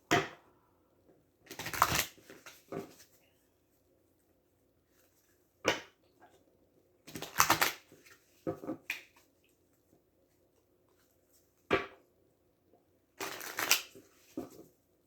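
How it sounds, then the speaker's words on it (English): Tarot cards are shuffled in quick riffling bursts, several times over with pauses between, crisp and close in an otherwise quiet room. "And one more shuffle and we'll cut them."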